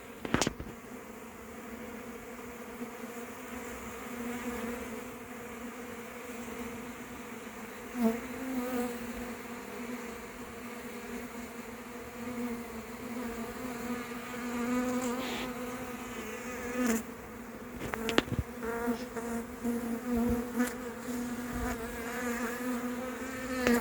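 A swarm of honeybees gathered on the ground, a dead queen among them, hums steadily and close by, a continuous droning buzz with occasional louder passes of individual bees over a low background.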